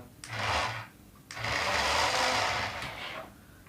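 Small DC motor of a cheap toy RC JCB excavator running in two bursts, a short whir then a longer one, high-pitched and buzzing, close up with no speech.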